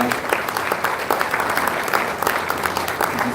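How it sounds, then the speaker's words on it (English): At a 60th birthday symposium for Obiageli Ezekwesili, a hall audience gives a round of applause to welcome guests joining online, crisp individual claps merging into a continuous, fairly close ovation. "Please give them a round of applause as they join us."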